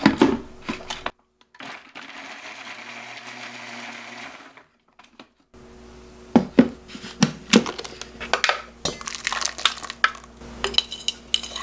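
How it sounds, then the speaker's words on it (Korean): A blender whirs steadily for a few seconds grinding frozen garlic, then stops; clinking and tapping of kitchen utensils follow nearby. "냉동 마늘 이렇게 한 줌 넣습니다. 뚜껑을 닫아서 갈아줄게요. 믹서기에다가"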